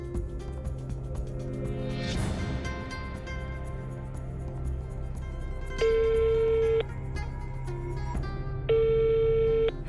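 A telephone call rings out in an Ethiopian drama scene: electronic ringing tones sound twice, each lasting about a second, over a steady musical background with no speech.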